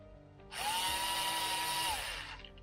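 A power screwdriver drives screws into parts of a FlyFish Volador 2 drone frame during assembly, one steady whirring burst lasting under two seconds, close and loud over a quiet room.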